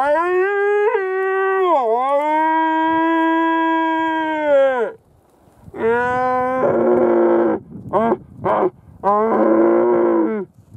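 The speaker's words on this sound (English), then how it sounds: "Bugling, not roaring anyway." A wapiti stag bugles in the Fiordland wilderness, a long, loud, high whistling call that slides and breaks, followed after a pause by a series of shorter, grunting bugle bursts nearby.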